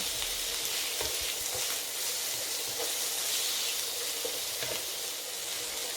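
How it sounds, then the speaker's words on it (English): Chicken pieces frying in a pan over medium heat, a continuous soft sizzle and hiss with light crackles throughout, fairly quiet and close, with no talking. "And then just fry that until it browns a bit and it's ready."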